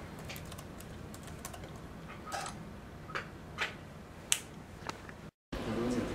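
Rapid clicks of typing on a computer keyboard come in scattered bursts, fairly close and quiet, with faint background voices and a brief dropout near the end.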